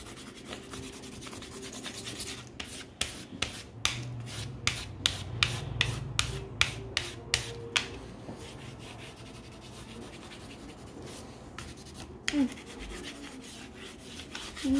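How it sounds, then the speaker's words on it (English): A broken green crayon is rubbed lightly across paper to color grass, producing a run of short, quick scratchy strokes up close, then quieter scraping and a few scattered taps. "I'm going to lightly go over the grass with a broken crayon, broken green."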